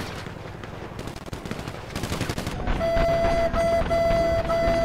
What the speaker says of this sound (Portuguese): Olha a trocação de tiro intensa na nossa frente aqui, nas nossas lentes aqui, ó.